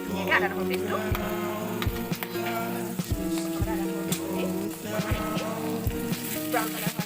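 Ginger-garlic paste and onions stir-fry in a pan for a chicken curry, a loud crackling sizzle broken by scraping stirs, over faint music.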